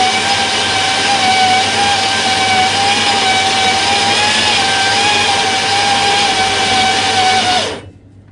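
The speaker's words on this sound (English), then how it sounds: "press perform grind test, and it then gives me 3 seconds before the grinder starts running" A coffee grinder runs through a grind test, a loud steady whirring motor with a sustained tone that holds for about seven and a half seconds before cutting off abruptly into silence.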